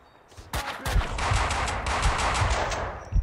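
M4 carbine gunfire in the shooter game Max Payne 2, a loud, close burst of rapid automatic shots in quick succession lasting a couple of seconds.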